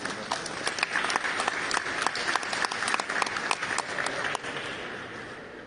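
A crowd at an award ceremony for a regional winner from Puno, Peru, claps in brisk, sharp applause that stays steady before easing slightly near the end.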